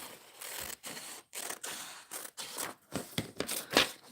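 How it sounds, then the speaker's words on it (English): Close-up scissor cuts through paper in a run of rasping snips broken by short pauses, loud and without talk. "I can use these scissors though."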